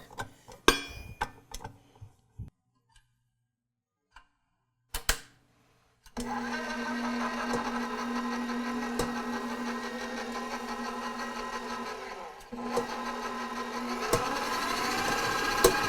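A KitchenAid stand mixer in Seacrest Green, fitted with a modern paddle, starts after a few scattered clicks and knocks, then runs with a steady motor hum and whir, briefly dipping before continuing.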